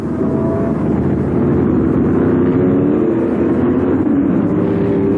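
A Chevron Chevrolet V8 racing car in the 1973 Tasman Series at Warwick Farm, its engine sending out a loud, sustained roar that stays steady and close throughout, with no voices.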